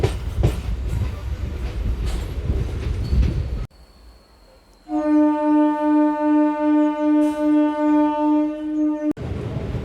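A MEMU train running between Guntur and Vijayawada: a loud, steady rumble of carriages, a brief quiet lull, then a long sustained horn with pulsing tones before the rumble returns.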